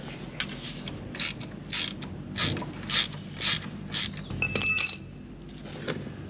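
A ratchet wrench clicks in repeated bursts while loosening a nut on a shear bolt on farm machinery, each ratcheting swing producing a close, crisp run of pawl clicks with short pauses between strokes.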